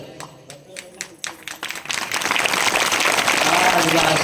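An audience at a village kirtan gathering claps, starting with a few scattered separate claps that quickly build into steady, dense applause. A voice speaks faintly underneath.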